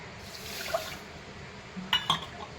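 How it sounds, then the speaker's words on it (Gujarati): Water poured from a small bowl onto sugar to start a sugar syrup for boondi, a soft liquid trickle with a couple of light clinks near the end, close and quiet. "એ જ વાટકી આપણે પાણી એડ કરીશું"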